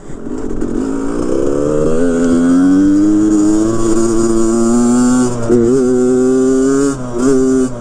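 A Suzuki RM85 dirt bike engine screams loud and close while lifting into a wheelie, its two-stroke pitch climbing and holding high, then dipping briefly and surging again near the end.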